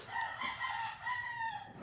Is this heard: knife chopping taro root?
no